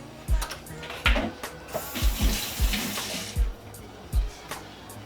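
Beef broth poured over short ribs in a pan, a steady liquid splash with a run of soft thuds and clinks as it lands, at close range.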